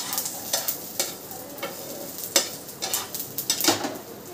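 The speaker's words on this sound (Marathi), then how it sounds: "मस्तपैकी मसाला भाजलाय." Masala being dry-roasted and stirred in a pan on a gas stove, with a soft steady sizzle under repeated scraping strokes of a spoon against the pan, close and moderately loud, no talking.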